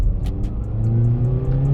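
A 2007 Toyota RAV4 with a 2.0-litre engine and automatic gearbox pulls away from a standstill uphill, its engine revving loudly and rising steadily in pitch, heard from inside the car.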